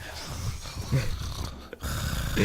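A person sitting at a gaming microphone breathes heavily, producing rough, snorting, wheezy exhalations that swell in short bursts close to the mic, with faint background noise in between.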